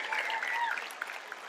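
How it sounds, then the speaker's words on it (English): Comedy club audience applauding at a stand-up show, a steady wash of clapping from a crowd of parents that holds fairly even, then thins slightly toward the end, with a few louder individual claps standing out. "How many parents in here by applause?"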